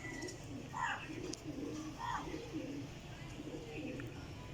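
Breeding pairs of fancy pigeons coo softly and repeatedly in low, rolling phrases, several calls in a row over a quiet background murmur.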